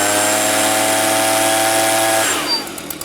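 A Stihl leaf blower engine idles with its end tube off, giving a loud, steady high-pitched squeal and drone that cuts off after about two seconds, leaving quieter sputtering.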